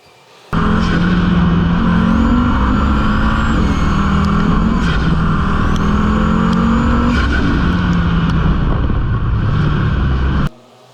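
A 2018 Audi RS 3 sedan, tuned to 550 hp with an aftermarket intake, revs hard and steadily for about ten seconds, loud and close, with a deep rumble and rising and falling pitch from the intake.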